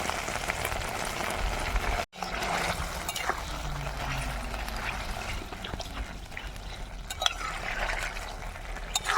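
Water is added to a chopped rohu fish head cooking in a pot in a village kitchen, giving a steady close pouring and splashing wash with one brief break.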